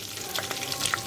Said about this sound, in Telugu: కరివేపాకు, ఎండుమిర్చి, వెల్లుల్లిపాయ వేసేస్తున్నాను